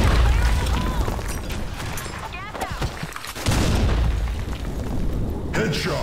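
Grenade blast in the Blackshot shooter game, a loud booming burst amid continuous gunfire and game noise, with voices talking over the action.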